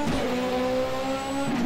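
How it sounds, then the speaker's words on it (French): A Corvette race car approaches on the Brno circuit, its engine a loud continuous droning roar with a steady pitch that stays close throughout the short clip. "y'a la corvette qui arrive, tu vois"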